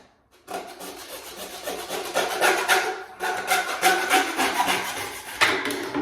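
A hacksaw cuts through a sink drain pipe during a Gerber pedestal sink installation, giving repeated rasping back-and-forth strokes that start after a short pause and grow louder and steady, with one brief break.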